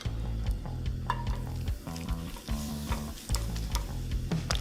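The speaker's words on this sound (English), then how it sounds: "So once your pan is nice and hot, spoon in your mix, your cabbage mix." Okonomiyaki cabbage batter spooned into a hot oiled pan, sizzling loudly up close with sharp crackles and scraping spoon clicks over a low rumbling hum.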